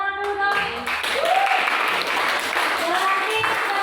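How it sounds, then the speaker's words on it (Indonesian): Applause in a classroom setting, a sustained patter of many hands clapping loudly and continuously, with voices calling out over it. "Tepuk tangan dulu dong."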